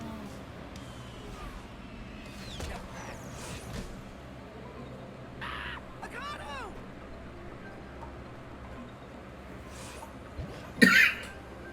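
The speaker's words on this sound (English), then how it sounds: "Sorry for the coughs." Someone coughs several times after choking on water, with a sharp louder cough near the end, over a low background hum with faint traffic-like noise.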